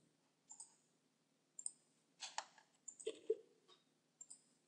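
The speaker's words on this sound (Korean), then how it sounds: "클릭" A computer mouse clicks during 3D product design work in CAD software, a handful of crisp, close clicks in short bursts with quiet gaps between them.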